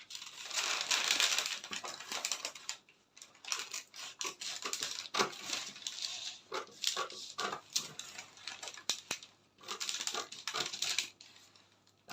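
Scissors cut through a skirt pattern close by, quick, irregular snipping and crisp paper-like rustling in bursts, with short pauses between cuts.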